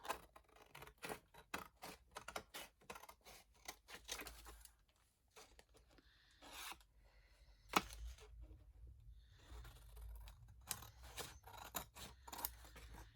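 Scissors cut through pieces of ink-stained masterboard paper, with crisp rapid snips in quick bursts, pauses between runs and some paper rustling, close but quiet.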